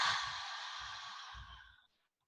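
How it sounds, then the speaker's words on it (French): One long, slow exhale through an open mouth during yoga breathing, a close breathy rush that gradually fades to silence, with soft low rustles beneath. "On ouvre la bouille en bas et on expire."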